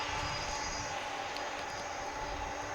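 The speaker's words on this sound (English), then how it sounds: "there you see one plane pushing back" At night at Dallas/Fort Worth airport, a plane pushes back from the gate, heard as a faint, steady, distant jet engine roar with no break.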